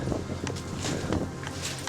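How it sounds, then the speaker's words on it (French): Gusty wind draughts rush and buffet through broken windows of an abandoned hotel, a constant airy roar with slight swells. "Désolé pour le vent."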